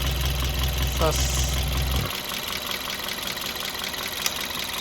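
An aging Hyundai Accent engine idles roughly with a rapid ticking knock, loud and close for about two seconds before cutting off, leaving quieter background noise and a single sharp tick near the end.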